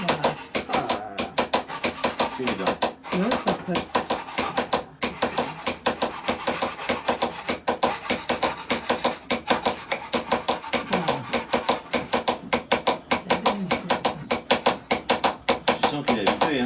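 A small metal chisel is struck rapidly to cut teeth into a blade in a workshop in Madagascar, giving a dense, fast and steady run of close tapping strikes with a voice talking faintly now and then.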